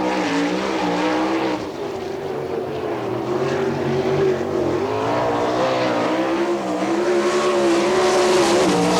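A race car laps the track during qualifying at an All Star Circuit of Champions event in Findlay, Ohio, in 1998. Its loud engine gives a continuous, close howl whose pitch rises and falls through the lap.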